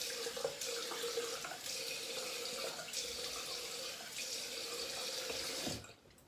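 A water tap runs steadily as someone rinses shaving soap off their face with warm and then cold water. The splashing flow continues evenly and quietly, then stops near the end, with no talk.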